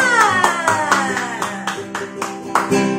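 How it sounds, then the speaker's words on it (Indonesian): Children at a church service clap their hands in a steady rhythm along with upbeat music, with sharp repeated claps cutting through the melody at moderate loudness. "sebelumnya kita mau bertepuk tangan dulu buat Tuhan"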